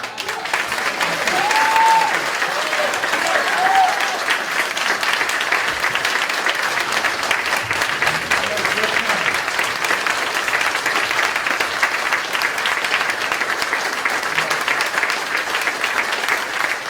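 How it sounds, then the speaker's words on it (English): An audience at a Whitestone GOP Club 9/11 memorial event applauds in a dense, steady wave of clapping that carries on for many seconds, with a voice briefly audible early on. "Your applause is overwhelming"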